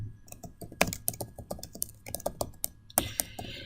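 Typing on a computer keyboard, a brisk irregular run of close, crisp key clicks with a few louder strikes, playing alone for nearly four seconds.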